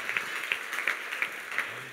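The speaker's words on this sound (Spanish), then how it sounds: "Le hace aplauso fuerte al Señor con gratitud." A church congregation claps, a dense patter of many hands with scattered sharper claps over a couple of seconds.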